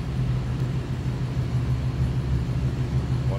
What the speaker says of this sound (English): This car sounds as it should, what you'd expect.